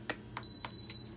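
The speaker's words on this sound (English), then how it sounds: "The timer just went off." An electric pressure cooker's timer goes off nearby with several short beeps in quick succession, over a quieter, sustained high electronic tone.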